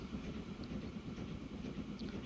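A train runs along rails in the Transport Fever video game, a faint, steady low rumble with soft rhythmic rolling texture and no speech.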